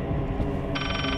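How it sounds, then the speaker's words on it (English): A telephone rings in the horror video game Layers of Fear, a bright repeating electronic trill that starts partway through over a dense, murky ambient drone. "It's a phone."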